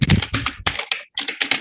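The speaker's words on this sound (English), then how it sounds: "I think it's your keyboard that I'm hearing." Rapid keystrokes clatter on a nearby computer keyboard in short bursts, with a brief pause before another quick flurry of clicks.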